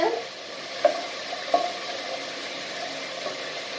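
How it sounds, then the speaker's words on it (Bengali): Onions fry in oil in a pan for a hilsa and taro curry, a low, steady sizzle. Two clear spatula taps sound early, with a fainter stir near the end. "পেঁয়াজটা ভাজা ভাজা হচ্ছে।"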